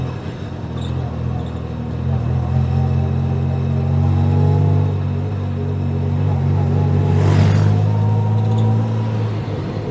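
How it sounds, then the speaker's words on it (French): A tuk-tuk's small engine rumbles steadily nearby as it drives along, a low continuous drone with slight swells and a brief louder hiss partway through. "le vrai tuk-tuk qui roule, mais c'est un vrai tuk-tuk"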